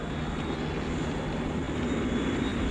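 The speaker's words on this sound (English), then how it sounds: "In a few moments, I'm going to open up my jet engines." Aircraft jet engines roar in a steady, broad, continuous rumble with a faint high whine, holding at an even loudness throughout without any voices.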